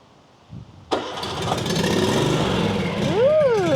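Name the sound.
riding lawn mower engine starting and idling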